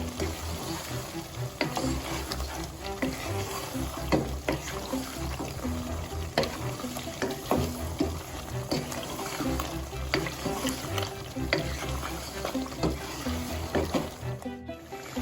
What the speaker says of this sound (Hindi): तो अब इन सब मसालों को हम अच्छे से मिक्स कर देंगे।